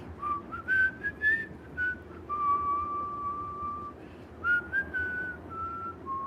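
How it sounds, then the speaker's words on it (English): A person whistles a slow, wavering tune of a few sustained notes with short pauses between phrases, clear and close over a faint background hum. "Doing a little whistling."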